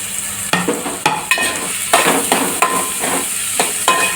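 Chopped onions and green chilies sizzle and fry in hot oil for a mango prawn curry, with a steady close hiss broken by repeated stirring scrapes of a spoon against the pan.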